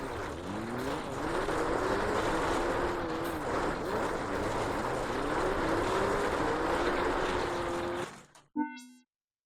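A rally car power-slides across gravel in the Richard Burns Rally video game on the Xbox: a loud, sustained engine roar with rising and falling revs and the crunch of loose stones, cutting off abruptly near the end.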